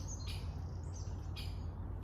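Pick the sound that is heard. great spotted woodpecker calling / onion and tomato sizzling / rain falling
great spotted woodpecker calling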